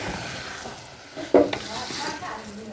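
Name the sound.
adding washed rice to pot of biryani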